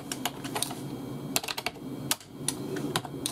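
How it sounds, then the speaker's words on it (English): Keys clacking on a vintage PS/2 computer keyboard, a quick irregular run of sharp close taps in short bursts with brief pauses, no voices. "I'm going to type something."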